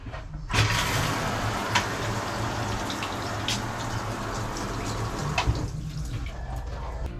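A shower runs inside a motorhome that a couple converted from a bus: a steady broadband hiss of water that starts abruptly, holds evenly for about five seconds with a few faint knocks, then cuts off.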